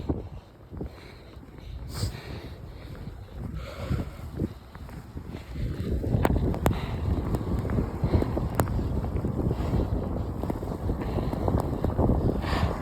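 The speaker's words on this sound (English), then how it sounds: "windy. Crazy windy." Strong gusting wind at midnight during a snow storm near Niagara Falls in Canada, roaring and buffeting the microphone in heavy waves that build louder toward the end, with no talk.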